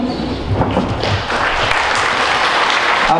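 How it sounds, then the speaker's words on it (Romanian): Audience applause at a company's 30th anniversary ceremony: steady, dense clapping from a crowd filling the room, continuous and fairly loud throughout with a few heavier thumps mixed in. "Aplauze Marsat."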